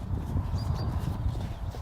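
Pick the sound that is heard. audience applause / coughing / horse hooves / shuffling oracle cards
horse hooves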